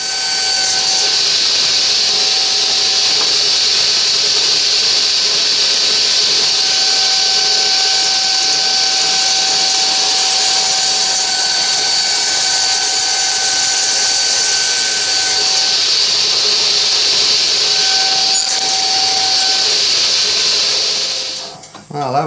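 A power tool cuts into a wooden sled during an Art Deco clock build, giving a loud, continuous high-pitched whine that holds steady for about twenty seconds before winding down abruptly.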